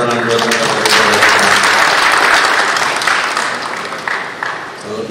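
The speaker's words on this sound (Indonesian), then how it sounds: "Tepuk tangan buat Angkatan Udara." A large crowd at a national aerospace seminar in Indonesia claps loudly and continuously, the applause thinning slightly toward the end.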